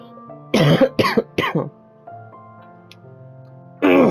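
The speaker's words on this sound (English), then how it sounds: "I'm coughing like crazy." Three sharp, close coughs in quick succession, then a quiet pause over soft background music, followed by another loud cough.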